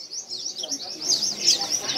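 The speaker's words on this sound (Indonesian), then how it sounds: "Selanjutnya juga ada yang namanya burung cicakino yang" Male cicakino songbirds chirp and tweet in a steady run of high, thin calls, several birds overlapping at close range with no talk.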